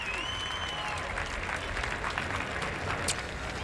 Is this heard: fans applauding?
yes